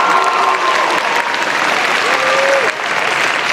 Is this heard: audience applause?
yes